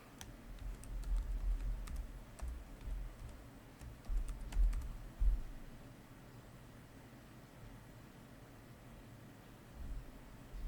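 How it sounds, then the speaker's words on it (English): Fingers tap a Wi-Fi password on the keyboard of a Samsung Galaxy Book2 Pro360 laptop, producing faint, scattered key clicks in short irregular runs over a quiet room hiss, with no voices. "I probably don't remember the password because I never have to type it in."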